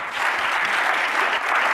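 Audience applause for round-table participants at a conference panel on foreign training in hearing-aid audiology, dense steady clapping from a crowd filling the room, sustained at even loudness throughout with no voices.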